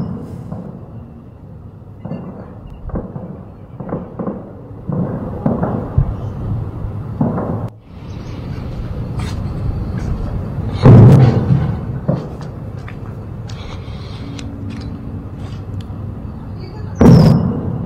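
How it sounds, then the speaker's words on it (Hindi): Gunshots crack and thump at irregular intervals during a gunfight between security forces and militants in Jammu, amid a noisy outdoor background, several sharp reports standing out, some louder than others. "आप गोलियों की आवाज साफ सुन सकते हैं।"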